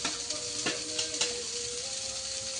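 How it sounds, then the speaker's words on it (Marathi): Onion, tomato, ginger and garlic roasting in a pan for dry sukka chicken masala, a steady close sizzle broken by a few stirring scrapes and a faint ringing tone from the pan, without talk. "आता मग टमाटो टाकून घेते सगळ्यातच भाजते सगळं आलं टॅमॅटो लसूण सगळं भाजून घ्यायचं"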